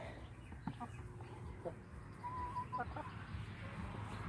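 Chickens inside a chicken coop cluck softly and intermittently, with a few short, faint calls over low, steady background noise and no clear talk.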